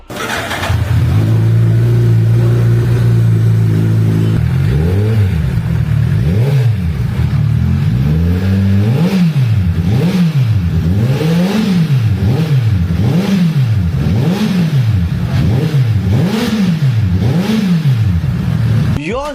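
A Suzuki Hayabusa 1,340cc motorcycle engine idles, then revs repeatedly in rising and falling bursts through a loud, throaty VMAX V117 aftermarket exhaust, close and continuous.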